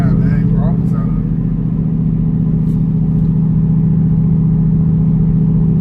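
A Ford Mustang drives along steadily, its engine holding a constant low rumble throughout with no clear revving; someone talks over it.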